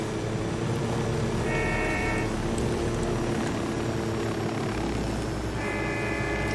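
Helicopter in the video game Ghost Recon Wildlands, a steady loud rotor and engine drone filling the whole stretch with a constant low rumble and faint whining tones coming and going.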